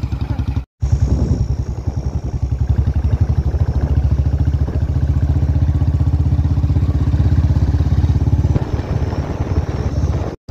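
A motorcycle rides toward a petrol pump, its engine a steady, close, unbroken drone with a mechanical rattle, briefly cut off at the start and end.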